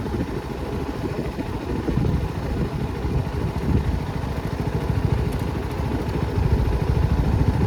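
250cc motorcycle on a dirt road, its engine running in a steady, loud, throbbing drone with rough, wind-buffeted rumble close to the microphone and no talking.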